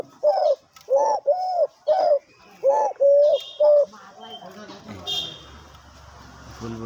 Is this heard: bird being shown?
yes